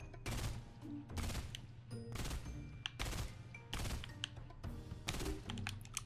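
Bursts of gunfire ring out in a shooter video game, rapid volleys repeating about once a second with quieter clicks and thuds between them, all at moderate, steady volume.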